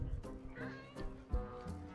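A cat meows several times in quick succession, close and fairly loud, with short tonal cries rising and falling, and no clear talk over it.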